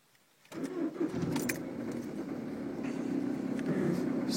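A 2007 Peugeot Partner with a 1.6 HDi diesel engine cold-starts at about -18 degrees: a short crank catches at once, then the engine settles into a loud, steady, clattering diesel idle close by.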